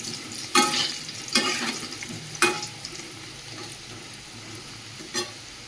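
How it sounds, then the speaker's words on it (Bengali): Potatoes frying in a pan as a step toward mutton curry, a steady low sizzle with a few sharp clanks of stirring spaced through it, close and alone without talk. "মাংসের জন্য আলুটা ভেজে নিচ্ছি এখানে"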